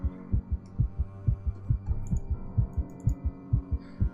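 A heartbeat sound effect in the game The Letter thumps steadily in paired, throbbing beats over a low hum, close and prominent, with no speech.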